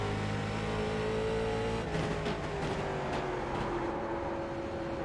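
A late model race car engine in iRacing at Concord Speedway drones loudly and steadily under sustained throttle, its pitch shifting slightly midway, with no voices.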